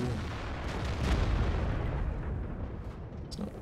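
Artillery gun firing in the World of Tanks tank battle game, a deep heavy boom that rolls on and decays slowly, fairly loud with no talk over it.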